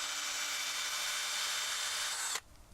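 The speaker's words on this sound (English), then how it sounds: "Now we'll try drilling into end grain." A homemade drill bit bent from wire bores into the end grain of a piece of wood, giving a steady, close whining grind that runs for over two seconds and then cuts off abruptly.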